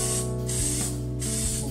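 An aerosol can sprays a protective coating onto a plastic car headlight, two close hissing bursts of roughly half a second each, separated by a short pause.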